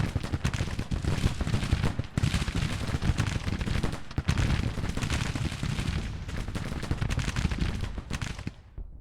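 Musket volleys from brigades of soldiers in the Grand Tactician Civil War strategy game crackle in a dense, continuous roll of overlapping shots, loud and steady, without any speech.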